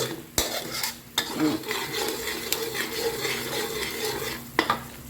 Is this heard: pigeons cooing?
no